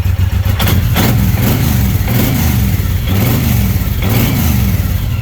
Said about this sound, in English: You can absolutely tell that is a big motor